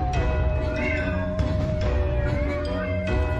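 A black cat in a Halloween animation meows repeatedly in close, clear, plaintive cries that come in short bursts over a steady musical backing.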